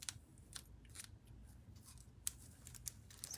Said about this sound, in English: I can't find an end to get my scissors in.